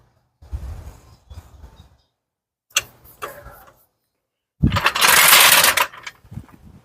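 A 2008 Subaru Forester is let down on a jack, heard as several separate close mechanical bursts of ratcheting and clunking. A louder, longer hiss-like release comes near the end, with brief pauses of silence between.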